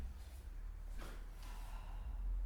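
One person draws a short, audible breath in through the nose while holding a yoga shoulder stand. The breath is faint and close, with no talk.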